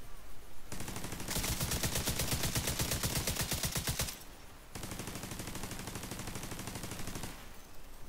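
A deployable turret firing in the shooter game The Division 2: two long bursts of rapid, evenly spaced automatic shots, loud and close, split by a brief pause.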